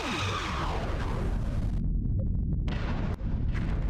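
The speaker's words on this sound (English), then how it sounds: "Torpedoes ready" Torpedoes launch in the space combat game Star Trek: Bridge Commander: a loud, roaring blast with a sweeping tone that cuts out abruptly, then a brief burst of noise.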